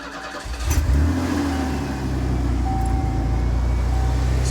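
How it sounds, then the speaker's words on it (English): A truck engine cranks and catches, then settles into a steady mid-pitched running rumble with a faint whine, heard close and without talk. "So let's fire up the truck."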